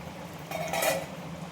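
A lid lifted off a cooking pot of simmering fish curry with ridge gourd, greens stems and potato gives one quick metallic clink over a steady low hiss.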